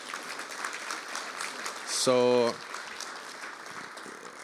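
A forum audience at an Indigenous clean energy gathering applauds in a steady, crowded patter that runs throughout, broken midway by a short tonal burst; a voice speaks briefly.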